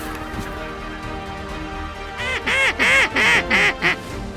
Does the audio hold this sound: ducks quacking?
yes